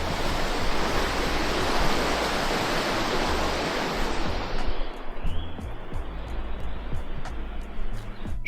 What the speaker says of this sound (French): Il y a un torrent.